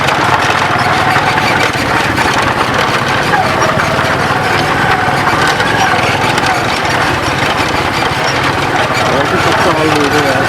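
A motorbike engine rumbles steadily and loudly throughout on a village road at night, with rattling and road noise as it rides along, a voice occasionally audible underneath.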